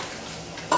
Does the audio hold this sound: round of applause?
no